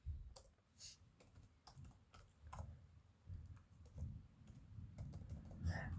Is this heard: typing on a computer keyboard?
yes